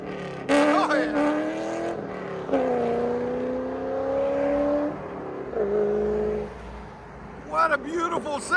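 A car drives off with its engine revving loudly, the pitch rising in strong sweeps and then falling away. A voice briefly joins at the end.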